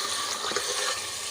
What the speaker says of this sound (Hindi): अब ये सिर्फ इतना पानी हम डाल रहे हैं।